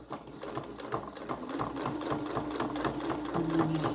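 Sewing machine stitching a fabric pumpkin hotpad, a steady rapid mechanical chatter of the needle running continuously at close range, with no talking.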